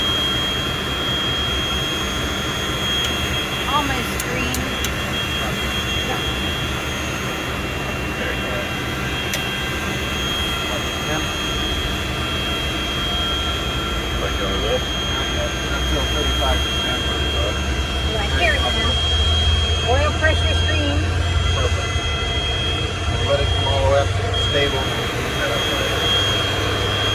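A Boeing 727 jet engine runs up, a loud, steady roar with a high whine that grows heavier and deeper over time, with people talking at points throughout.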